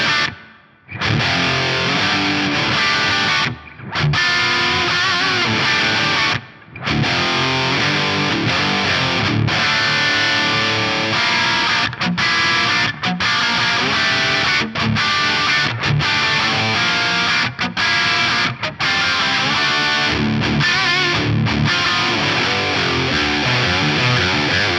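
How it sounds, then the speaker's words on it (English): Heavily distorted electric guitar through a Soldano amp, Eventide effects and an Axe-Fx III London Plate reverb plays a dense, sustained riff with a wash of reverb, dropping out briefly a few times before surging back in. "add the London Plate reverb from the Axe FX3 to add some glorious space"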